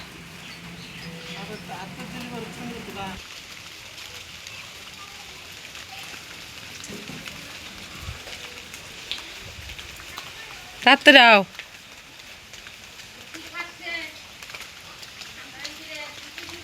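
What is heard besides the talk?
rain falling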